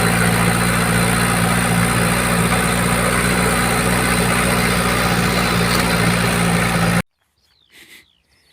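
A vehicle carrying a load of clay drives through second and third gear, its engine droning loudly and steadily with a low hum for about seven seconds before cutting abruptly to near quiet with faint rustling.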